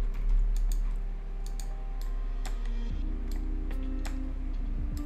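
Keys tapped on a computer keyboard, a few sparse clicks spread out over a steady low hum and a faint background tone.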